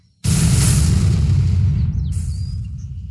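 A cannon firing in Roblox Build a Boat for Treasure, one loud, close boom that cuts in sharply and then rumbles and slowly fades, with a faint electronic chirp near the end.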